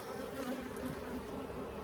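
Honeybees in a Layens hive box while two colonies are being combined, giving a dense, steady buzz from many bees close up with a faintly wavering pitch and no voices.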